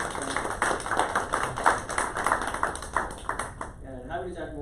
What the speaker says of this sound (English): Okay, give a round of applause for presentation.